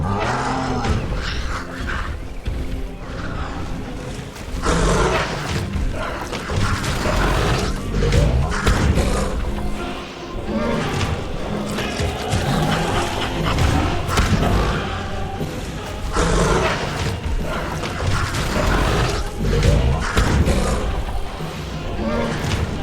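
An Ankylosaurus battles a pack of Dakotaraptors in Jurassic World Evolution 2: heavy thuds, growls and roars churn continuously and loudly, with a voice narrating over the fight.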